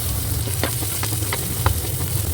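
Garlic drops into a hot frying pan for a filling of fried bean-sprout spring rolls, setting off a steady sizzle and crackle with a few light stirring taps scattered over it.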